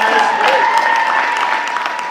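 An audience at a talk applauds, a steady wash of clapping sustained over a couple of seconds that thins slightly toward the end, with faint voices underneath.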